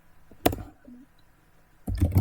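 Keys tapped on a computer keyboard, a short burst of close clicks followed by a pause, then a second denser cluster of taps.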